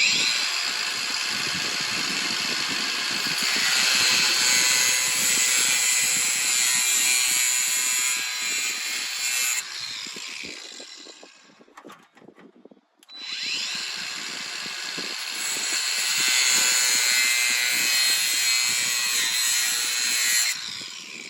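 A power tool cuts through a plastic motorcycle mirror housing in two loud, sustained bursts of high-pitched grinding, separated by a brief pause when the tool winds down.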